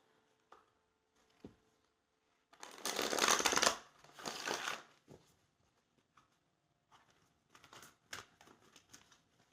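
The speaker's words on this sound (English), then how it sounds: "When I pull an oracle card" A deck of oracle cards being shuffled, with soft taps and small papery handling sounds followed by a dense burst of riffling card noise, then scattered light slides and flicks as cards are drawn out, close and quiet.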